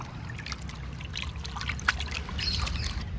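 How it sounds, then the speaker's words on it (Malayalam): Salted, cut fish pieces are rinsed in water, with a soft continuous trickle and splashy sloshing close up and a few brief clinks, no talking. "നല്ല ഉപ്പിട്ട് നല്ലതായിട്ട് വൃത്തിയായിട്ട് മൂന്നാല് പ്രാവശ്യം കഴുകിയെടുക്കാം"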